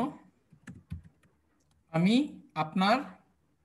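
Computer keys tap in a few scattered clicks, interleaved with someone talking close by.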